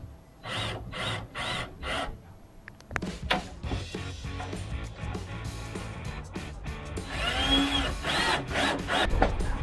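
A power drill drives screws through a 50 x 120 wooden tabletop into its base: several short whirring bursts in a row, then longer, louder runs, close by and with no speech.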